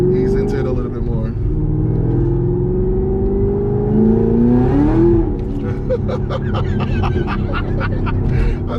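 A Chevrolet Camaro SS 1LE on a test drive pulls hard, its engine note rising in pitch as it accelerates, a deep rumble heard from inside the cabin while people talk over it.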